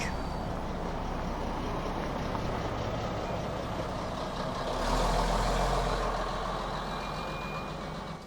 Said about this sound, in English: Here comes the Tyne and Weir Transport Leyland Atlantean.